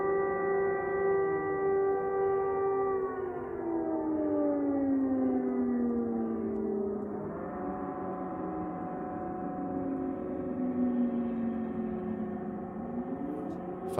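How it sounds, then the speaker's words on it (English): Air raid siren wailing over Kyiv, a loud sustained mechanical tone that slowly falls in pitch, then rises again and drifts down once more, heard from a distance over steady background noise. "There's sirens going off in Kyiv right now."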